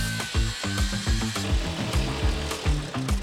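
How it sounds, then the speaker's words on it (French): Reciprocating saber saw cutting window and transom openings in wooden panels, a steady rhythmic rasp of the blade strokes with repeated low thumps, loud and close, with no talking. "A l'aide d'une scie sabre, Moana découpe les ouvertures des deux impostes et de la fenêtre."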